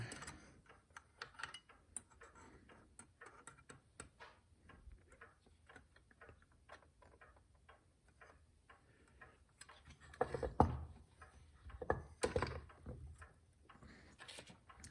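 A tall case clock ticks in a steady, quiet rhythm, close by, with faint handling clicks and small mechanical knocks growing louder toward the end.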